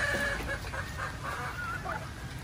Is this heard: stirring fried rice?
no